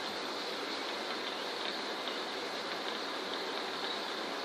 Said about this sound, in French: Inondation de pluie.